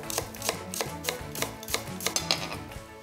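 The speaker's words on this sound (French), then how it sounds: "Et maintenant, émincez l'échalote." A knife mincing shallot on a cutting board for a salmon tartare, with quick, regular chopping strikes close by over faint background music, no one talking.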